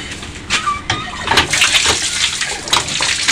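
Water gushing and splashing from a repaired hand pump (poso/bomba) after its cup seal was replaced, a steady broadband pour with bursts of sloshing and spatter, close by.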